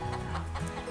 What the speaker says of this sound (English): But a chicken, what does a chicken say?